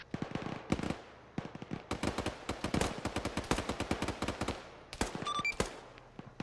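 Rapid bursts of rifle and machine-gun fire in an Arma 3 firefight, dense overlapping shots in quick uneven volleys, loud and close, continuing for several seconds with no talk.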